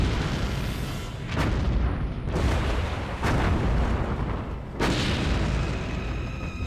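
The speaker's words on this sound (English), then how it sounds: "she and South Dakota lay into Japanese cruisers and destroyers, firing rapid broadsides from 16-inch and 5-inch guns" Heavy booming broadsides from a battleship's 16-inch and 5-inch guns in a naval battle against Japanese cruisers and destroyers, several deep blasts rolling into a continuous loud rumble, close and dense with no pauses.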